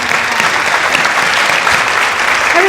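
Audience applause filling a hall at a school honor society induction ceremony, steady dense clapping from a large crowd for the full length, close and loud with no talking.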